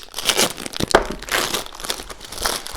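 Plastic packaging around a protective case for a 3.5-inch hard drive crinkles and crackles as it is unwrapped, in several close bursts of rustling with a few sharper tearing snaps.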